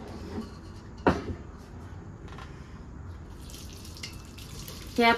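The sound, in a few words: water draining through a strainer into pot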